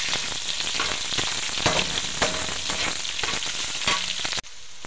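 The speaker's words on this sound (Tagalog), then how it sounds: "So ayan guys, medyo brown na yung karne. Pagsabayin natin yung bawang tsaka sibuyas." Garlic and onion sauté alongside browned meat for Ilocano-style monggo, a loud close sizzle with repeated stirring scrapes that cuts off abruptly near the end.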